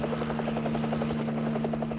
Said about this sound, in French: Voici leur hélicoptère.